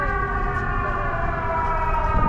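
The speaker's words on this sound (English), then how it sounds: "air raid siren's going off" A loud air raid siren in Lviv, Ukraine holds a steady, droning wail without a break, close and filling the whole stretch.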